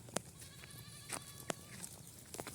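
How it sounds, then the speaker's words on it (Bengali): Goats on a farm bleat faintly in the distance, a few short calls over low background noise. "এই যে ছাগলগুলো,"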